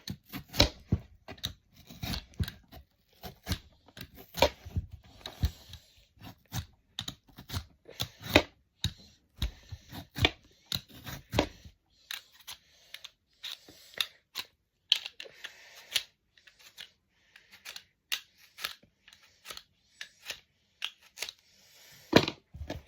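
Crisp, rhythmic scraping strokes of a peeler on potato, close up, in quick irregular bursts, thinning to lighter, sparser scrapes later on.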